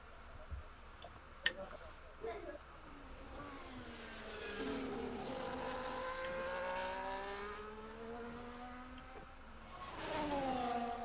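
Race car in a racing video game pulling out onto an outlap at Austria, engine tone climbing steadily through the gears and holding a sustained whine, with a brief click early on and light talk underneath.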